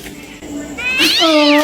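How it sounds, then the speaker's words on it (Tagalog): A cat meows loudly and close, one drawn-out rising then falling call that swells to full strength, following a brief fainter mew at the start. "pusa lang yun"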